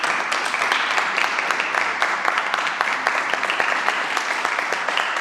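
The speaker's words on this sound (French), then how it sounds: "Est-ce qu'on peut offrir une offrande d'acclamation à notre Dieu?" A church congregation claps loudly and continuously during a service, a dense, even wash of applause with crisp individual claps lasting the whole stretch.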